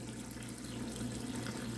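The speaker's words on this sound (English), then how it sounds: "Okay, so just add water." Water is poured into a pot of caramelized onions for homemade French onion soup, making a faint, steady pouring rush with no talk.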